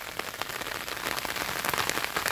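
A steady downpour drums on a garden and an umbrella held overhead, a thick, even wash of close raindrops that swells slightly toward the end, with no one speaking.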